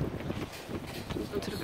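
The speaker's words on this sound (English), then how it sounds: "Oh, it's very windy." Outdoor wind on a walk near a beach in Gdansk, a gusty, low rumbling blowing across the microphone in uneven surges, with voices faintly mixed in.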